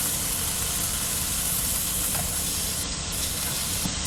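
A Puerto Rican sandwich put back on the hot pan sizzles with a steady, close hiss that holds evenly throughout, with no talking.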